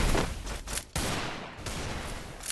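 Rapid bursts of gunfire in Free Fire crackle in quick succession, loud and dense, with a brief pause before another volley continues.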